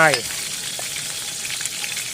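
Garlic hits hot oil in a pan where pickled fish is frying, giving a continuous loud sizzle with crackling spatters and a brief tonal clink at the start.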